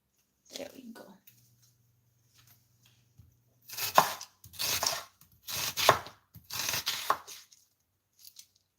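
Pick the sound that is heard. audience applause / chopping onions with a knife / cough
chopping onions with a knife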